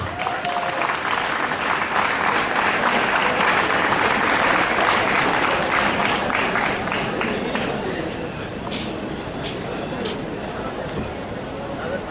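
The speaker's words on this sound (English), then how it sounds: "Now, for Christ's sake, clap your hands." A school audience at a farewell function claps loudly and steadily, a dense wash of many hands with crowd murmur underneath, holding strong before easing slightly toward the end.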